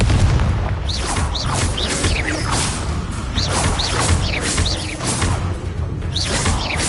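Repeated explosive spell blasts from Bombarda and Confringo in the Hogwarts Legacy video game, with booming crashes and whooshing swishes packed closely together over a steady, loud background of combat sound.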